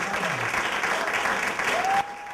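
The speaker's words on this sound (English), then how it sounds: "both candidates are worthy of a round of applause" Audience applauding student government election debate candidates, a steady wash of clapping from a crowd that cuts off sharply near the end.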